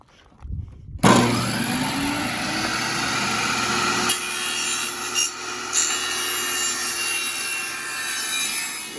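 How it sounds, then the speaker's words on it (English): Saw cutting wooden boards at 45-degree angles for the corners of a kitchen island, a single continuous loud cut with a steady motor whine, close up, then dying away. "now we're gonna cut these angled here at 45s so that we can mate them up on the corners"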